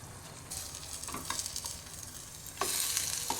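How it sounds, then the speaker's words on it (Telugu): Spinach is tipped into hot oil in a pan and stirred, giving a soft steady sizzle with scraping spatula strokes and a louder burst of frying near the end. "ఇప్పుడు పాలకూర వేసుకుంటున్నాం ఫ్రెండ్స్."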